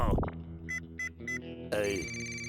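Cartoon telephone ringtone chirping in three short evenly spaced bursts, with a character's voice and a brighter musical tone around it.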